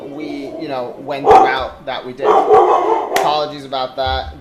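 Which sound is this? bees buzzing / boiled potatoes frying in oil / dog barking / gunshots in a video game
dog barking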